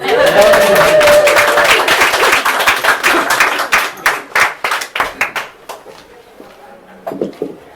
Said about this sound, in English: That needs another round of applause